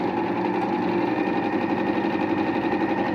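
A Singer sewing machine runs steadily while stitching, giving a continuous, even mechanical whir with a fast repetitive chatter and no voices over it.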